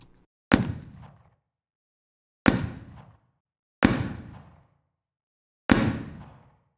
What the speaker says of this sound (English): So I can make my gun sound like it's indoors, or I can just add a little bit of verb to elongate that tail.